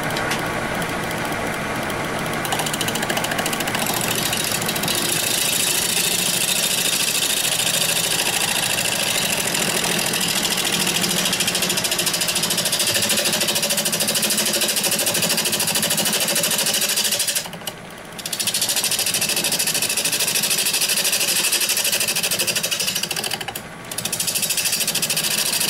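A wood lathe spins an Indian rosewood bowl at 800 RPM, giving a loud, continuous rattling hum and scraping under the tool, with two brief dips in sound toward the end.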